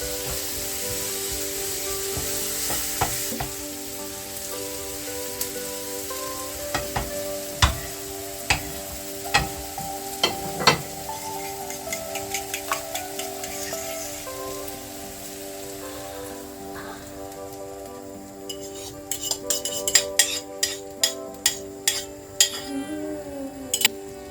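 Beaten eggs seasoned with pepper fry in a pan, giving a steady close sizzle broken by frequent sharp clicks and scrapes of stirring, with a cluster of quick taps near the end.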